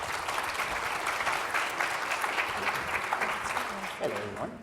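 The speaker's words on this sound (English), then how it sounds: "So again, another round of applause for our panelists here." Audience at a teachers' conference session on schools and communities applauding its panelists, a continuous wash of clapping with some crowd noise that tapers off near the end.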